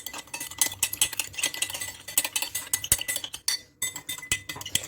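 A spoon stirs coffee, water and sugar in a cup, clinking steadily against the sides in quick repeated taps, close and clear with no talking.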